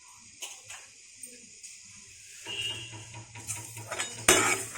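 Toor dal and rice roasting in a pan for methi rasam, heard as scattered metallic clinks and scrapes of a spoon against the pan, quiet at first and then busier with a sharper clatter near the end.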